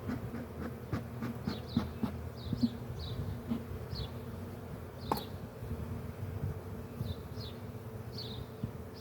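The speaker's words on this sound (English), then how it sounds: "Get some of these bees that are all defensive about me." Defensive honey bees buzz close around an open hive, a continuous low drone with individual bees whizzing past the microphone in quick passes, along with a few soft clicks and knocks.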